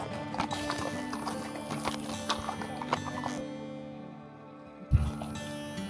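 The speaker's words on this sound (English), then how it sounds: "the rhythmic sound of the horses' hooves carving a path through the forest" Horse hooves clip-clop in a steady rhythm on a forest trail near Santa Teresa, Costa Rica, nearby and distinct, then briefly fade before a heavy thud.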